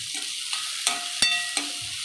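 Onion frying in a garlic tempering gives a bright, steady hiss of hot oil, broken by four or five sharp spatula scrapes and clinks against the pan, close and clear.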